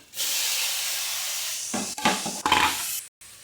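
Tomatoes hit browned onions in a hot pan for a Palakkad-style mackerel curry, setting off a loud, steady hiss and sizzle that stays close and continuous, with brief stirring clatter near the end and a short drop-out.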